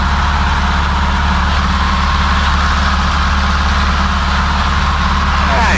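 Light low-wing airplane engine at full power during a climb after takeoff, a loud, steady, continuous drone with a strong low hum that holds unchanged throughout, close and filling the cabin.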